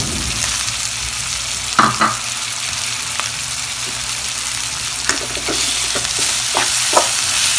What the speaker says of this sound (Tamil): எண்ணெயில் 2 நிமிஷம் இந்த காய்கறியெல்லாம் வேகட்டும்.